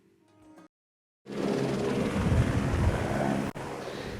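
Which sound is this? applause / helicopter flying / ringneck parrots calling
helicopter flying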